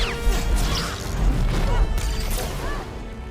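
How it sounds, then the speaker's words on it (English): Star Wars Blurg holdout blaster shots: a few sharp zapping bursts with sweeping tones over a busy, steady background of sound effects, loud and close. "Its shots also made a very pleasant sound."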